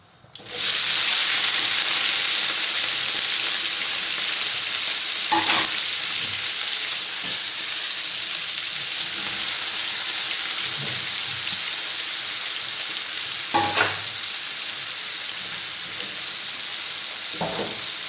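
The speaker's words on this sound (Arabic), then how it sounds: "الآن نمروا ونقلوا الفلفل تاعنا" Green and hot peppers frying in a pan for paella, a loud, steady hiss of oil close by with a few brief stirring scrapes breaking through, no voices.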